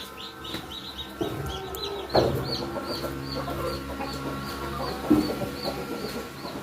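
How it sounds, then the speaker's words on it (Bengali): Large Tiger breed chickens and roosters on a farm cluck and murmur continuously nearby, with repeated short calls and a few louder squawks over a busy flock background. "আর দেখতে পাচ্ছেন যে বেশ বড় সাইজের মুরগি দেখছেন, অনেক বড় বড় মোরগ।"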